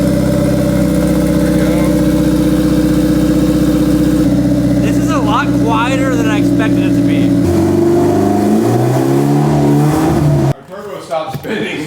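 A turbocharged engine in a budget $800 car cranks and fires into a loud, steady run with rising revs and harmonic whine, then cuts off abruptly near the end.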